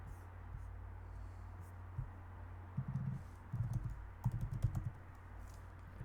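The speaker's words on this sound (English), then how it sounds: "Let's type in backyard renovation." Typing on a computer keyboard, with soft key clicks arriving in short irregular bursts over a steady low hum, fairly quiet and fairly close.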